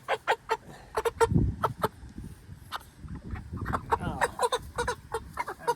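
Large meat chickens in a pen cluck and chatter close by in a steady run of short, repeated calls, with some low scuffling underneath.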